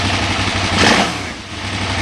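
A 2008 KTM 990 Adventure motorcycle engine idles with a steady low throb, swelling briefly in the middle of the clip before settling back, heard up close with no one talking.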